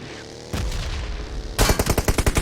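Automatic rifle fire in PUBG Mobile from a crouched shooter: a brief single shot, a short pause, then a rapid, loud spray of about ten evenly spaced shots.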